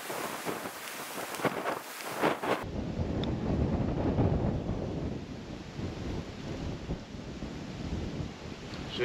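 Strong wind buffets the microphone across an outdoor golf course, a steady low roar of gusts that swells and dips throughout, with a brief quieter stretch at the start.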